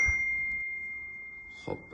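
A single SMS notification ding from a phone rings out clearly at the start and sustains as a steady tone, with faint room sounds and a brief soft noise near the end.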